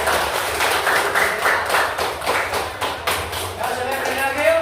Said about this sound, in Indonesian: tepuk tangan buat Yapi